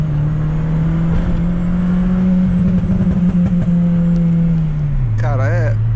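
A remapped Chevrolet Astra 2.0 engine with 127 hp, tuned for pops and bangs, drones steadily at high revs at night, then drops in pitch near the end with some faint crackling.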